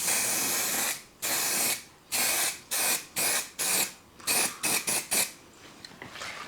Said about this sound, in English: And then we can get a bit of primer on it.